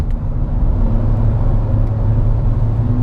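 A 2018 Fiat Argo Precision 1.8 with a six-speed automatic accelerates in fourth gear from about 80 km/h, heard from inside the cabin as a steady low engine drone and road rumble that builds slightly.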